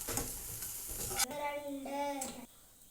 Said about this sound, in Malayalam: നമുക്ക് ബീഫിനകത്തേക്ക് നമ്മൾ ഉള്ളി വഴറ്റിയത് ഇട്ട് കൊടുക്കാം